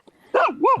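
A dog barks twice near an air show after noticing someone walking by, with a short soft sound first, then two loud, close barks that bend in pitch, and no talk.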